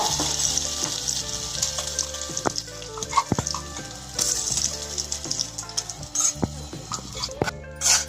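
Mango pieces sautéing slowly in oil over low heat for a Tamil-style mango thokku, giving a steady soft sizzle with scattered sharper crackles and occasional stirring knocks, with no talk over it.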